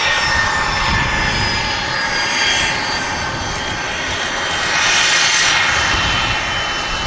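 Steady, loud roar of an Icelandair Boeing 737 MAX's jet engines at Manchester Airport, a broad whooshing hum that swells slightly midway and holds without pause.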